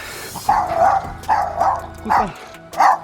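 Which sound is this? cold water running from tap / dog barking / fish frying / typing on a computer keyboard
dog barking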